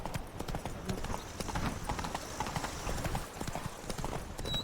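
Horse hooves clip-clop at a brisk, steady gait in The Witcher 3: Blood and Wine, with dense rhythmic thuds at moderate volume and a faint voice now and then.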